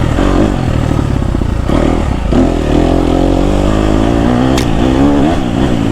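A KTM 250 SXF dirt bike ridden through a forest in second gear, its single-cylinder engine buzzing loud and close at a steady cruise with slight rises and dips in revs and some clattering from the trail.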